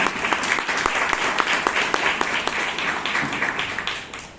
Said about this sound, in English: Give an applause, please.